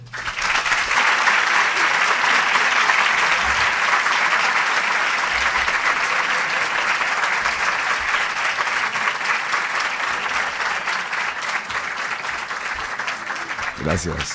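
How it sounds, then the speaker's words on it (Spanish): Sustained applause from a crowd, loud and even throughout, with a few cheers near the end. "con este aplauso a Rodolfo Barili"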